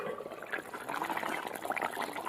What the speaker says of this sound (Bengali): এবার ঢাকনা খুলবো